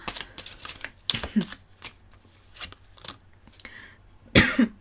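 A person coughs sharply a couple of times amid soft rustling and tapping, with a louder, harsher cough near the end.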